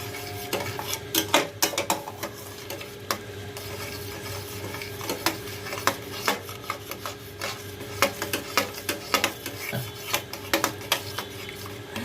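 A paneer and makhana mixture is stirred and sautéed in a pan, with a steady run of scraping, clicking spatula strokes against the metal over a low background hiss, close and moderately loud, with no talking.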